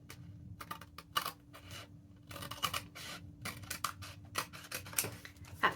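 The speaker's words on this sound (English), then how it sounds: "That's why I use blunt scissors, because it makes it a lot harder to cut into the thing you're cutting around." Blunt scissors snip through packaging for a junk journal insert in a series of close, crisp cuts and rustling scrapes, with pauses between bursts and no talking.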